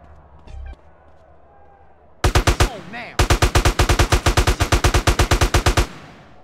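An AK rifle in GTA: San Andreas fires in two loud, rapid automatic bursts, a short one and then a longer run of evenly spaced shots, after a quieter stretch of game ambience.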